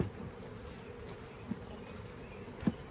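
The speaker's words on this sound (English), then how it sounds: "trying to shake off bees, so squish them." Honey bees swarm around an urban beehive being closed up with a third honey super, a steady close buzzing drone throughout with a couple of faint knocks over it and no voices.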